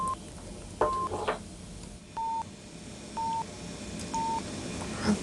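Electronic calibration beeps from a cochlear implant, several short steady tones spaced about a second apart over a hissy room background, with faint clattering in between.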